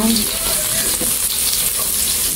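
Ginger frying in a pan of hot oil gives a steady, close, dense sizzle with a faint scrape of stirring partway through.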